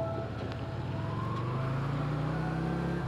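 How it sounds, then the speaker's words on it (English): Trucks drive past at Tokyo harbor, a steady engine drone with rising tones as a vehicle accelerates nearby, moderately loud and without speech. "there's all these fucking trucks around me"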